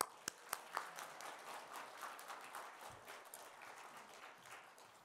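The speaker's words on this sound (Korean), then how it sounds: "우리 강사 목사님, 정명 선교님 나오실 때 환영의 박수로 오늘 맞이하겠습니다." Church congregation at a revival meeting clapping to welcome a guest pastor, a few sharp individual claps opening into moderate, fairly quiet sustained applause.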